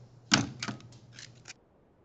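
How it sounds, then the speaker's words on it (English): A handheld stapler drives staples through plastic water rocket fins, producing several close, crisp clacks and crunches in a quick irregular series, then quiet. "I'll just staple this one because it's actually very satisfying to staple them after you're done"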